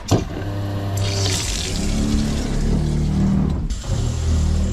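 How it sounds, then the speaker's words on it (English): Water rushes steadily into an RV's hot water heater as it fills, a loud continuous gushing flow with a brief break near the end before it resumes. "It's filling up the water, hot water heater now."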